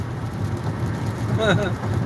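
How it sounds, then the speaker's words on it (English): Steady, heavy rain hisses continuously, with a brief voice rising over it near the middle. "We're getting dumped a lot of rain all year here."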